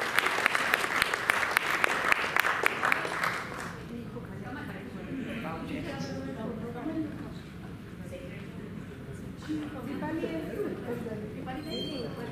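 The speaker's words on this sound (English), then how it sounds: "So a big round of applause to Shruti and her club." Applause breaks out at an Inner Wheel Club installation ceremony, loud for a few seconds and then fading, with people talking and murmuring as it dies away.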